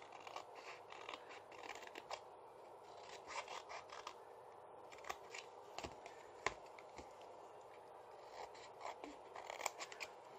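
Scissors cut paper for a napkin fold gift box with quiet, repeated crisp snips and soft rustling scrapes. The cutting sits close and faint, with no talking.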